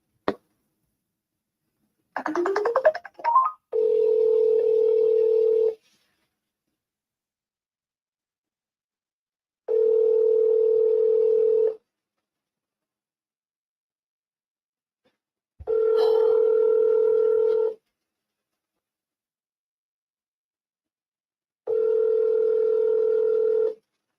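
A phone call being placed: a short rising tone burst and dialing clicks, then four steady ringback tones of about two seconds each, repeating at even intervals with silence between, clear and alone.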